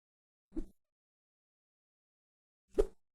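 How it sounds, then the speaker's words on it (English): Two sharp whip cracks from the Film Cow sound effects library snap out about two seconds apart, each a quick isolated burst against silence. "this is all whipping sounds"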